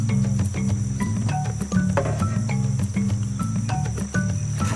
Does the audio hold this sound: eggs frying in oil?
no